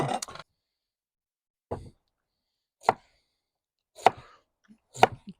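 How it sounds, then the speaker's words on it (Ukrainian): A knife slices carrot for beef plov on a cutting board, with sparse, sharp, isolated chops spaced about a second apart, close and clear against silence. "Ріжемо її на такі скибочки, а потім на такі дальки."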